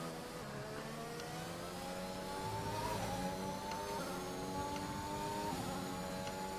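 Race car engine in the F1 2021 video game, revving steadily with rising and falling pitch as gears shift, loud and continuous with no talk over it.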